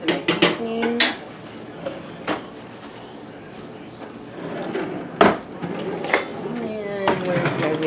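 A spoon clinks and scrapes in a pot of broth with beef, peas and seasonings, irregular metallic knocks and clatters near the mic, with a person speaking over parts of the stirring.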